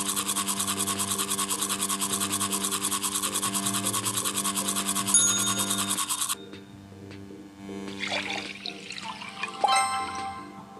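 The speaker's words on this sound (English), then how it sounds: "Help Lisa brush her teeth by moving the toothbrush to her mouth." A toothbrush scrubs teeth in a children's educational video game, making a steady, loud, continuous bristly rubbing for several seconds that stops abruptly, then gives way to softer watery sounds and chimes.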